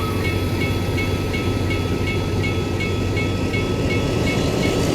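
Diesel locomotive engine of a DE 24000 in a train simulator game, a steady loud drone running at high revs with a constant rumble and tonal whine throughout, no talking.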